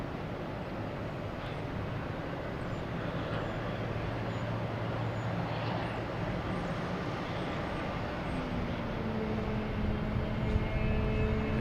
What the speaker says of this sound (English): Air France heading back to Paris, an A350-900.